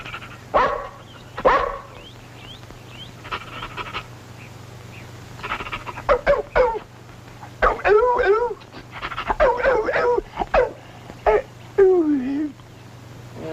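A dog in an indoor scene whimpers, yips and gives short barks in scattered bursts, fairly close, mixed with people talking over a low steady hum.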